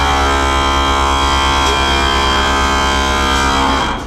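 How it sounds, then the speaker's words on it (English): Pressurized air hisses out through a valve on a cement tanker, a loud, steady broadband rush holding at one level for several seconds before easing slightly at the end, with no talking. "What that does is releases the pressure out of your tank."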